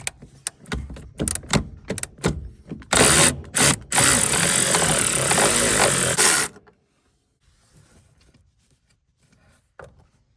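A loud power tool whirs in bursts, then runs steadily as it takes nuts off a brake master cylinder on a 1971 Dodge Charger Super Bee. It cuts off abruptly, leaving near silence, with no voices.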